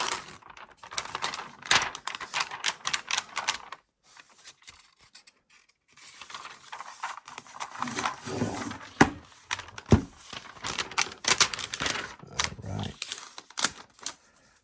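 Protective film peeled off a new 2021 14-inch MacBook Pro, heard as bursts of crackling, rasping plastic with short pauses between pulls, fairly close and loud, with brief talk among the peeling.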